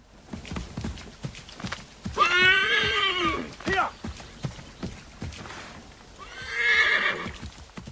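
A horse in the Assassin's Creed 3 video game neighs loudly twice, with a whinny early on and another near the end, over steady clip-clop of hooves while someone talks throughout.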